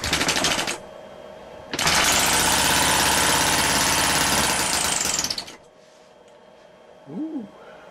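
A Nipsa 7.5 OHV four-stroke engine bursts into a loud, steady mechanical run for several seconds after a brief earlier burst, then cuts out to near silence.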